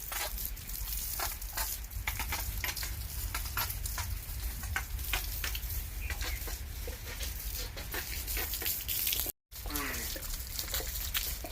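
Water hisses steadily from a spray onto a newly built buffalo feeding trough. The spray runs continuously, close and fairly loud, and a brief gap interrupts it near the end.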